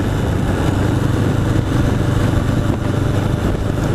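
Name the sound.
1981 Honda CB750 custom motorcycle engine running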